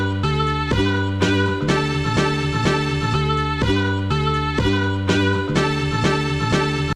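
A rearranged chopped sample of a full track plays two bars, its chopped segments repeating in a steady looping rhythm with a strong low end, heard loud and alone.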